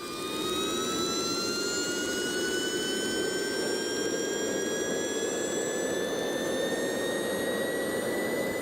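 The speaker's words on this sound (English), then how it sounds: "those gigantic turbines warming up for takeoff and can recall the strangely whirring sound" A loud jet turbine whirs continuously, its high whine slowly rising in pitch over a dense roaring rumble.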